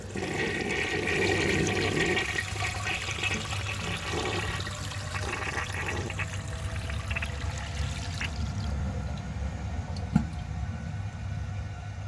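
A 1930 Eljer Sanus toilet is test-flushed, with loud, steady rushing and gurgling water continuing for about twelve seconds and a brief sharp clank near the end.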